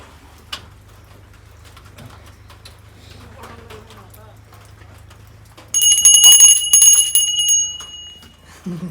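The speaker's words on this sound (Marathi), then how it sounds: "लेट वाजवली रे घंटी" A bell rings loudly and repeatedly for about three seconds during a village Bhavani puja where coconuts are broken. It follows a stretch of low hum and faint, scattered voices.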